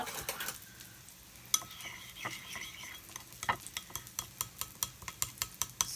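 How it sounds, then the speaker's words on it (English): Food is stirred in a frying pan for a plant-based breakfast, a utensil scraping and clinking against the pan in quick regular strokes over a soft sizzle. "Mix that up."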